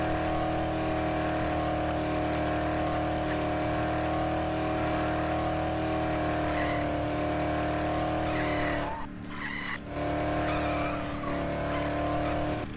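A car drives in the Dead Island video game with a steady, loud engine drone and tyre noise, briefly dipping before resuming; no talking over it.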